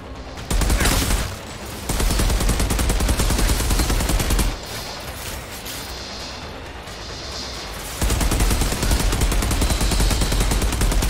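Heavy automatic gunfire in the shooter video game Outriders comes in dense, loud bursts that stop briefly and then resume, with no talking heard.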